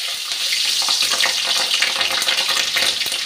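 Green chilli dropped into hot oil for a vegetarian spinach dish, giving a steady, bright, close sizzle with crackling pops across the whole stretch and no talking.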